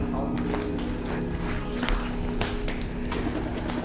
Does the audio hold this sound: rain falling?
no